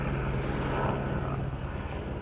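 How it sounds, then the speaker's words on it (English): Helicopters passing overhead give a steady, loud rotor and engine drone that fills the whole stretch, with no talking over it. "Some helicopters going by."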